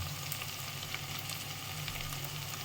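Turmeric, cumin, coriander and a little garam masala sizzling in a pan for a cauliflower and paneer dish, a steady close crackling hiss with no talk.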